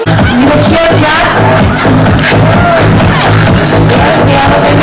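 A large crowd roars and whoops without letup, loud and close, during a race at a school's annual sports meet.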